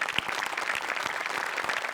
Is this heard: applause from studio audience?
yes